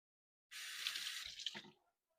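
Tap water runs steadily for about a second and a half, splashing over the top of a metal can held under a kitchen faucet, then cuts off abruptly with a few trailing drips.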